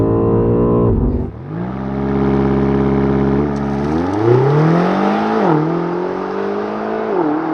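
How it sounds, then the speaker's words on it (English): A 2023 BMW XM, a twin-turbo 4.4-liter V8 hybrid, launches hard using launch control, its engine note climbing loudly through several quick, abrupt upshifts, each marked by a brief dip before the revs rise again. "2023 BMW XM with launch control. God, those hard shifts."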